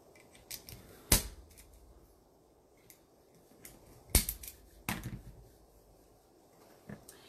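Scissors or cutters snip zip ties off a Pegasus wall-decoration board in a few sharp, separated clicks and snaps, close and loud, with small rustles between them.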